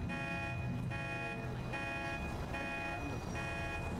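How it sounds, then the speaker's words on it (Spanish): Car alarm going off in the FiveM video game, a steady repeating electronic tone in pulses roughly every 0.8 seconds over a constant low engine-like hum, loud and alone. "Para la alarma primero, mejor."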